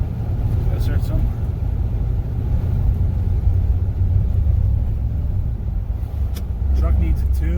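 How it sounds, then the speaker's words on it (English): A truck engine running rough and sputtery in cold weather, heard from inside the cab as a loud, continuous low rumble with uneven throbbing and occasional clicks. "Truck needs a tune. It's running really sputtery."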